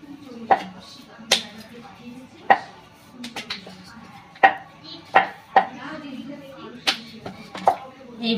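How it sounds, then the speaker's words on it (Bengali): A knife repeatedly cuts a sheet of egg roll dough into large portions on a hard board, each chop a sharp, close knock, irregular and spaced about a second apart, with faint background room noise. "এখানে আমি লেচি কেটে নেব কটা।"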